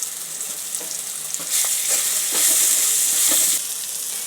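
Onion-garlic chutney masala with red chilli powder and salt roasting in a hot pan for a kurma dish, a steady close frying sizzle that swells louder for a couple of seconds as the mixture is stirred.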